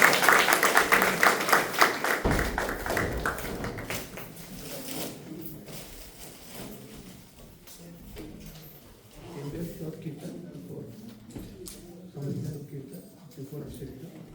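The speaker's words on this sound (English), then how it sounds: "Please give a good round of applause" A crowd applauds for a couple of seconds, a dense burst of clapping that quickly fades as talking and room noise carry on.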